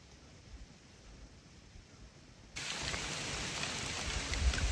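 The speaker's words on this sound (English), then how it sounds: "and it is raining." Steady rain falls alone, a soft hiss that suddenly grows much louder and heavier halfway through and stays constant.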